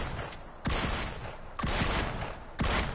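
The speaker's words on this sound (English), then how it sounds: "Oh, look, I can shoot through. Shoot through the vehicle." Gunfire in PUBG on PS4 punches through a vehicle, three loud, sharp bursts spaced about a second apart, each with a brief rattling decay and no talk over them.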